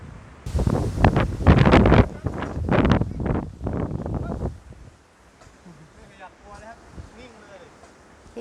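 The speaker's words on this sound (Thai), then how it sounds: "โห ลมแรงมาก วันนี้ลมแรงมากจ้ะ" Strong wind gusts buffet the microphone outdoors in England, a loud roaring rumble for the first few seconds that then drops to a quieter breezy hiss with faint distant sounds.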